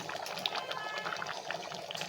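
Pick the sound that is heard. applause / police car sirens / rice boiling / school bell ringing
rice boiling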